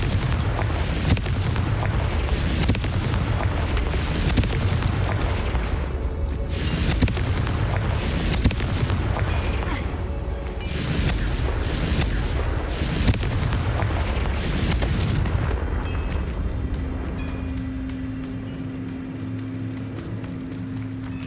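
Repeated Confringo fire-spell explosions in the video game Hogwarts Legacy, a run of loud booming blasts about every two seconds with rumbling tails, easing into a steady hum near the end, no talking.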